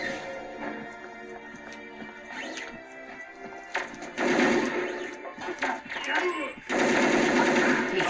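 Gunfire from the video game Perfect Dark crackles in bursts over a dense bed of game music and effects, with people talking throughout.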